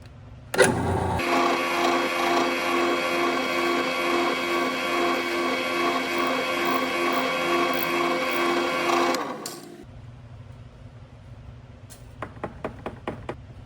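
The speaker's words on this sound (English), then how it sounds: "turn on the drill press, push through, practice peck drilling where you back out to clear any chips" A drill press drilling a hole in a part whines steadily and loudly for several seconds, then cuts off, followed by a few faint clicks and taps.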